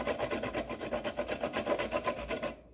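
Small carrots being grated over a bowl with the small side of a grater, a quiet, rhythmic rasping stroke repeated about a dozen times, then stopping.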